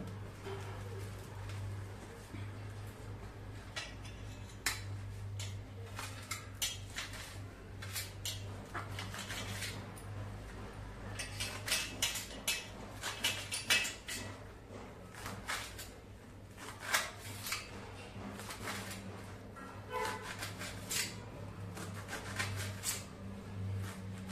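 Knife blade chopping fenugreek leaves finely on a board, a steady run of close, quick taps with brief pauses, over a constant low hum.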